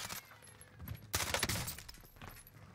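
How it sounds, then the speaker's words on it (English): Gunfire in a video game shootout, a sudden burst of rapid shots about midway, fairly faint and distant-sounding over low game ambience, with no talking. "I'm getting shot at from somewhere else."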